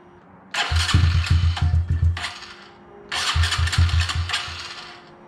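Honda CRF110 motorcycle fitted with a CJR S1 camshaft and larger injector starts up twice, each time a loud, close single-cylinder burst of rapid revving pulses that settles briefly between the two runs.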